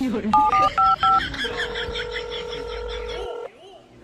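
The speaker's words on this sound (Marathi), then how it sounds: "मी त्या डॉक्टर डॉक्टरला फोन लावते" A quick series of telephone keypad beeps, followed by a steady electronic tone as the call connects, with a voice briefly in the background.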